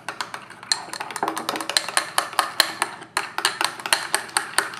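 A spoon stirs kefir with molasses, producing rapid, rhythmic clinks and taps against the container, close and fairly loud with brief pauses.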